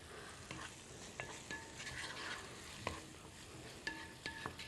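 Quiet, steady sizzle of seasoned meat frying in a pan for Uzbek pilaf, with a few light clinks and scrapes of a utensil stirring now and then.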